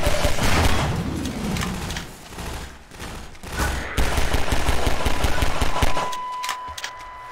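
Rapid, loud gunfire in Half-Life 2 with pistol shots among the volleys, crackling in dense bursts that thin out toward the end, with no talk.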